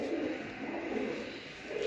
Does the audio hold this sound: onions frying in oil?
no